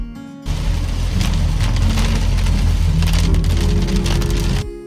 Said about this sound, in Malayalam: ഇതാ മഴ വന്നല്ലോ.